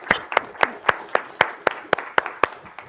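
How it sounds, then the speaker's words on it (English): At a conference on big data, a small audience claps in a regular, evenly spaced rhythm of about a dozen sharp claps, near and clear with no talk over it. "let's give her a round of applause"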